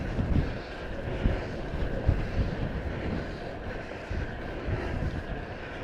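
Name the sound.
wind hitting cyclist on exposed Dorset ride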